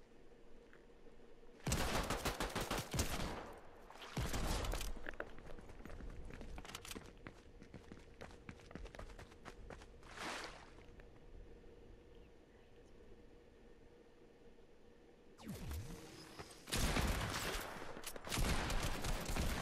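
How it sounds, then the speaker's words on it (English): Gunfire in the Fortnite video game, with loud bursts of rapid shots at the start and end and sparser pops between, over a steady background hum and no talk. "brother's trying to shoot me with this shotgun this far range"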